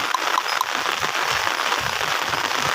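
Heavy rain pours down outdoors as a dense, steady hiss of countless drops, loud and unbroken throughout with no voices.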